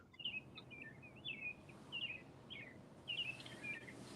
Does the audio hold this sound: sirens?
no